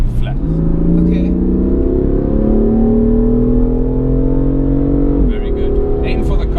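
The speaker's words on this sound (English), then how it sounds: "I'm going to ask you to accelerate all the way, flat." A car accelerates flat out on a race circuit, its engine note climbing steadily in pitch as it builds speed, loud and close from inside the cabin, with a brief shift and dip near the end.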